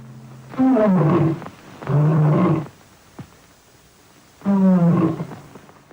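The MGM lion roaring into a microphone: three long, loud, guttural roars with a short gap and a brief snort between them, close and clear with nothing else heard.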